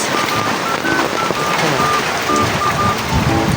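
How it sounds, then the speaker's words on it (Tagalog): Heavy rain falling outside during a flood, a dense, loud, steady hiss of rain on surfaces with gusty wind noise across the microphone. "pakita ko sa inyo kung gaano kalakas yung ulan ngayon"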